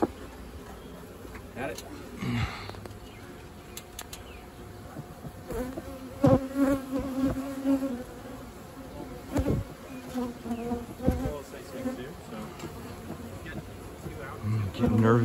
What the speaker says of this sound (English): these bees are really going after it.